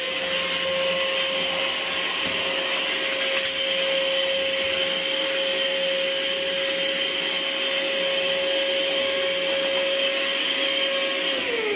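A small Misto handheld vacuum cleaner sucks up drilling dust with a steady, loud, close motor whine and airflow roar that holds evenly throughout, with a faint rising pitch near the end.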